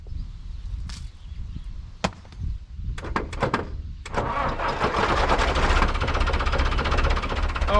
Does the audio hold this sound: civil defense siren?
no